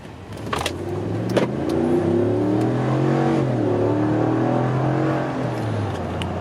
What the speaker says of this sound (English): it accelerated actually pretty nicely, and you got up to speed in no time